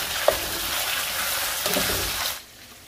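Beef sautéing in a pan with ground cumin and black peppercorn mix, a steady close sizzle with a brief scrape of stirring, dropping quieter near the end, no talking.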